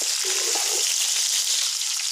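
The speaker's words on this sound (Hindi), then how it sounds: "चिकन को हम कुछ टाइम तक भूनेंगे जब तक इसका गोल्डन कलर आ जाए।" Chicken pieces frying in a pan for yogurt chicken pulao, giving a steady, close hiss of sizzling oil that holds evenly for a couple of seconds with no voices.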